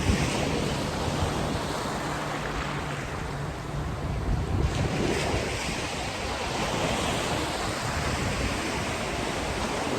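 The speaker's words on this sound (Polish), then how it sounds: "Uwielbiam ten szum e, tych fal" Steady roar of sea waves washing in and out, a continuous broad surf rush with no voices, slightly swelling midway.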